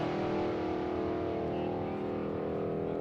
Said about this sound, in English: Rovek going wheels up off the starting line.